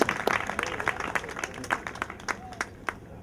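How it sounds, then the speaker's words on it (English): Scattered clapping from a small crowd at an outdoor mural unveiling for an arts garage, sparse individual claps fading out, with some talk mixed in. "One more round of applause, everyone."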